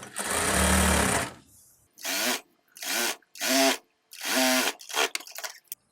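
A sewing machine runs in short bursts while stitching a burqa: one longer run, then several brief starts and stops with clicks and silent gaps between them.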